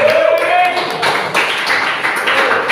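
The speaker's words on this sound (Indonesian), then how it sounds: "aplaus buat Bangkalan" Applause from a class audience for a participant from Bangkalan, Madura, East Java: a steady wash of clapping that fills the room for a few seconds, with a voice briefly audible over it.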